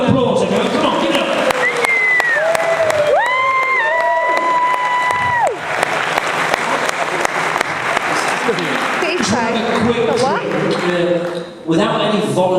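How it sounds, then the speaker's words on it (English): Audience applause with some cheering at a hypnotist show, loud and sustained across the whole stretch, with voices and whoops rising over the clapping near the start and people talking through it. "Give all a big round of applause, everyone."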